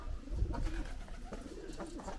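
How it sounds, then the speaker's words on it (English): Big pigeons cooing on Santiago Island, Cape Verde, soft low repeated coos with faint bird calls around them, fairly close and quiet. "The big pigeons"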